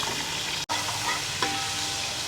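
Onion sautéing in hot oil with whole spices (bay leaf, cinnamon, cloves, black pepper, star anise, cumin), a dense continuous sizzle close by with a quick dropout and a light stirring scrape, no talking.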